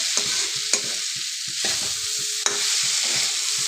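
Eggs and potatoes frying in a pan for a quick egg-potato curry, with a loud continuous sizzle and repeated scraping stirs of a spatula at a steady rhythm, close up and with no talking.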